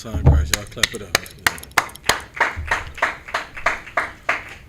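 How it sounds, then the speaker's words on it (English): Rhythmic clapping from a congregation at a Sunday Israelite scripture meeting in Houston, steady repeated claps in a regular beat, fairly close, with voices and chatter underneath. "Y'all clap it up."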